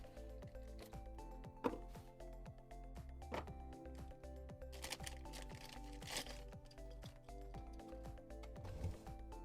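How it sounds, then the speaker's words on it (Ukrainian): Crinkling and rustling of a thin plastic inner packet as a Tomica Premium Lamborghini Miura model car is unboxed, with close, busy crackles and small clicks running steadily throughout, no voice over it. "Як зазвичай всередині ще один телефонний пакетик"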